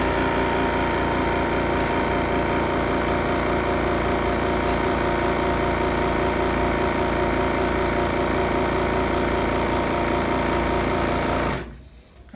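A refurbished straw braid sewing machine, previously fitted with a broken needle bar holder, runs and stitches in a loud, steady, fast mechanical whir that continues without pause before cutting off abruptly near the end.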